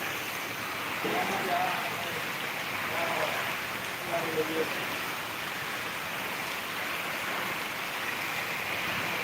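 A constant wash of heavy rain hisses throughout, with faint voices briefly murmuring underneath near the start.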